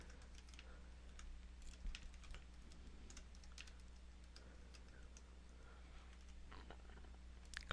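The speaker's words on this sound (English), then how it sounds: "type in my email address" Soft, rapid clicking of a computer keyboard as an email address is typed, steady and close but quiet, with no talking.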